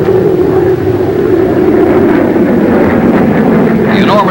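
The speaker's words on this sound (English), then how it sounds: "it makes a low-level approach at the reduced speed it will be using someday for a carrier landing" A McDonnell F2H Banshee jet powered by twin J-34 engines makes a low, slow approach, its loud, sustained roar filling the clip with a rising whine toward the end, under a narrator's voice.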